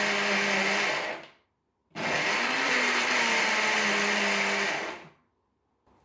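A kitchen blender pulses a blueberry smoothie in two loud bursts, the first about a second long and the second about three seconds, with a short silent gap between them.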